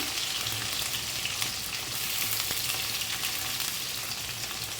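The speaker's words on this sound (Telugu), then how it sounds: "పచ్చిమిర్చి సన్నగా దరుచుకున్న పచ్చిమిర్చి ఉల్లిగడ్డలు వేస్తున్నాను" Green chillies and onions fry in a pan for a village-style tomato egg curry, giving a steady, close, continuous sizzle with no voices.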